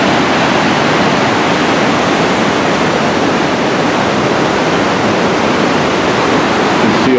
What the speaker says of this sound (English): This is the top of the lower waterfall.